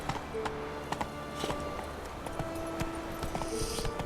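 Horse hooves in The Witcher III, clip-clopping at a steady walking-to-trotting rhythm, moderately close and continuous over game ambience and music.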